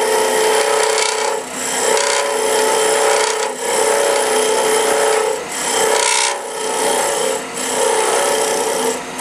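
A turning tool cuts into a wooden box blank spinning on a lathe. It makes a continuous loud, close rasping scrape that surges and dips briefly every couple of seconds as the cut shifts.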